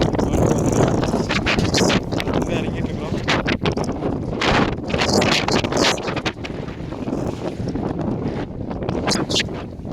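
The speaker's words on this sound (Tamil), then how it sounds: "இந்த இடத்துல வந்து காற்று ரொம்ப அதிகமாக இருக்கும்" Strong wind buffets the microphone in loud, roaring gusts while a person speaks briefly underneath.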